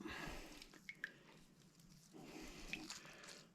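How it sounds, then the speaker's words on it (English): Water drips and squishes from a wrung-out, soap-rinsed muskrat hide during tanning, a few small close drips and wet squeezes over low background noise. "Then I'll wring him out."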